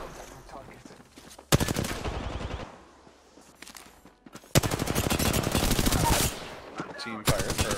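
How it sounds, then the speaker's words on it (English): Automatic weapon fire in the Apex Legends battle royale game: long loud bursts of rapid shots with short gaps, and fainter game sounds in between. "I hear shots over in the power grid area."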